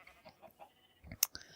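Sheep bleat in a modded Minecraft world, penned inside a fence: a few soft, scattered calls, then a brighter, sharper bleat near the end, all fairly faint with no talking.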